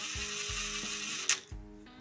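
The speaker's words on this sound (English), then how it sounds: "You can spin the tensioner and wind it in place." Ratchet-like clicking as a chain tensioner is wound in by hand on a Polaris Predator 500 engine during a build, several distinct close mechanical clicks spaced about a third of a second apart, with a brief sharp tap in the middle.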